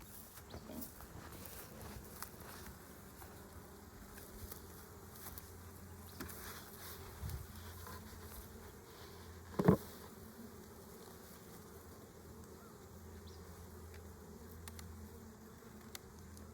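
Honey bees hum and buzz steadily at a low level around an open hive, with occasional insects passing close and a brief knock partway through.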